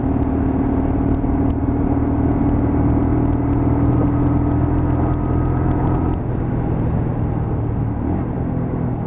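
A Lexmoto LXR 125cc motorcycle held in sixth gear at about 30 mph as the throttle opens, giving a steady engine drone and road rumble that carry on for several seconds before easing slightly toward the end.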